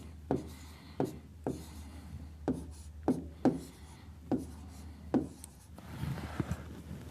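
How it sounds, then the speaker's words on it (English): A pen writes a social security number on a paper application form, heard as a series of soft, close taps and short scratching strokes spaced about a second apart, quiet and without talk. "So I'll just write my social security number here."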